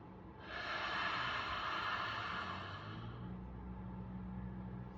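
A long, slow breath exhaled during a quiet meditation, a soft airy hiss that swells then gradually fades over a faint low background hum.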